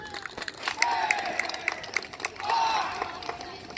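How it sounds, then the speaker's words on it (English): A small crowd applauds a graduating high school band senior at a band event, moderate clapping with scattered cheers and whoops, somewhat distant and uneven in strength. "Round of applause for her, please."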